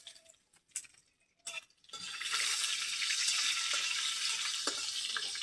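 Panch phoron spices hit hot leftover egg oil in a pan and break into a loud steady sizzle after a few brief clinks, the frying staying close and even to the end with no talk.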